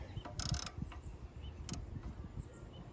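A 14 mm socket wrench ratchets on the belt tensioner bolt of a 2001–04 Kia Rio, with two short bursts of close metallic clicking amid low scraping and handling noise, with no voices.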